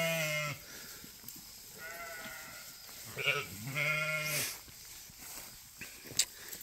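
Goats and sheep kept together on brushy pasture bleat several times, including eight-month-old billy kids, the calls rising and falling at moderate distance with light movement in between.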